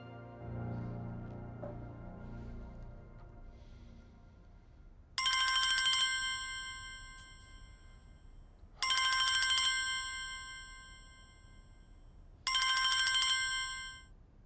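An unanswered telephone rings alone in three evenly spaced bursts, each fading slightly, after a stretch of quiet low room sound.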